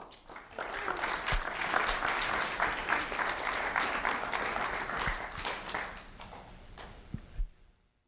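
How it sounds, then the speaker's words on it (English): An audience at a Sheriff's Office recognition event applauds a third-grade student, with sustained, moderately distant clapping that swells and then fades out to silence. "a round of applause for Patrona, please"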